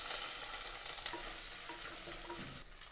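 Mustard seeds, fenugreek and finely chopped shallots frying in coconut oil, a faint, steady hiss with a couple of brief crackles, quiet and close.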